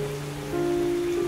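Steady storm rain falls on surfaces, a dense even patter with a faint low tonal hum underneath, continuous and fairly close.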